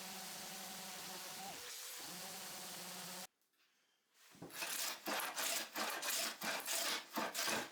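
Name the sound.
sanding and hand planing wooden workbench edge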